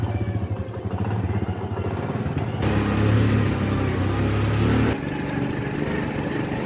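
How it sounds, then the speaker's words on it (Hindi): A motorcycle engine runs close by, with a steady low rumble that swells louder in the middle as it revs and pulls away, then settles to a lower drone, with no talking. "मोटरसाइकिल को बाहर निकाल लिया, अब इसको करते हैं स्टार्ट और चलते हैं अपने डेरे की तरफ।"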